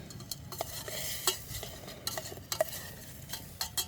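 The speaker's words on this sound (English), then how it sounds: "Give them a stir." Mushrooms are stirred in a frying pan with a utensil, producing repeated scraping clicks and scuffs of metal on the pan over a soft background sizzle. No one talks.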